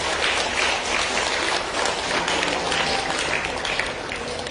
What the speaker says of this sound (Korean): 우리 모든 아버지들 격려와 축복의 박수를 드리기 바랍니다.